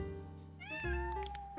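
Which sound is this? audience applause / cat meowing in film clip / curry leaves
cat meowing in film clip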